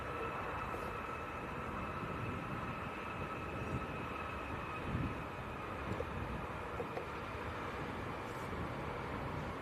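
Ryanair jet bound for Tenerife on its takeoff roll at Leeds Bradford airport, a steady broad roar with a faint high whine, heard from a distance over wind buffeting the microphone, with no voices.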